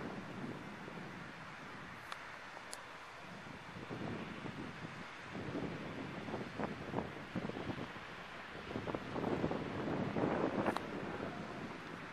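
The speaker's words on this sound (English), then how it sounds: "I can't believe the waves in that." Wind gusts buffet the microphone over rough ocean waves, a fairly faint rumbling wash that builds toward the end with scattered sharper bursts.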